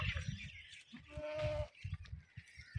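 DDP breed goats bleat on a farm, several fairly close calls rising over a steady background of animal shuffling, with no talking.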